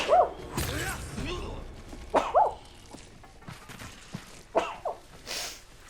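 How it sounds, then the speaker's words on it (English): A person sneezes with a sharp burst, followed by a few more abrupt breathy outbursts and gasps, close and fairly loud in a quiet room during a gaming session. "Ooh, I'm gonna sneeze."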